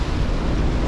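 Large sea waves around three metres high pounding against a small sailing boat named Tessie in shallow coastal water off the Netherlands, a dense, continuous roar of surf and rushing wind close to the microphone, with no voices.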